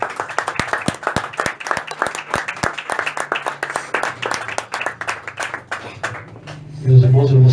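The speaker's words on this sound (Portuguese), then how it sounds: "E as palmas para o Senhor." A church congregation claps in praise, loud and close, in an even rhythmic beat that slows and fades near the end, with a voice rising as the clapping dies away.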